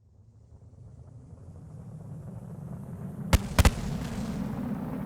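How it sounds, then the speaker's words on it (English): In Kerbal Space Program, a low rumbling roar swells gradually, then three sharp, loud explosive bangs hit in quick succession, a single blast followed by a close pair, before the rumble continues. "I heard explosion."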